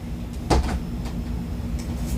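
A small plastic toy wrestling folding chair is snapped open, giving one sharp click near the start and a few faint clicks afterward over a steady low background hum.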